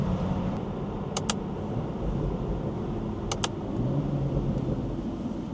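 Steady low rumble of a car's BMW B58 engine cruising along a highway, with road noise and a few faint clicks over it, no talk.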